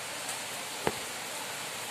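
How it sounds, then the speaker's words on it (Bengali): Steady rain makes a soft, even hiss with a single faint knock partway through, continuous and fairly low in level, with no talking. "তো দেখো আবার বৃষ্টি হচ্ছে,"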